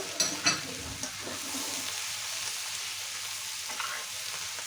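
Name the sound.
stirring onion flowers with hilsa roe masala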